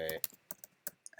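A few quick keystrokes tap on a computer keyboard, sharp close clicks spaced irregularly just after a brief bit of speech.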